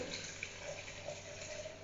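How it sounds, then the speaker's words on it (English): Hot water at about 85 °C pours steadily into a French press for kombucha brewing, a faint, continuous trickling stream with no talking over it. "I'm just gonna add that hot water to it"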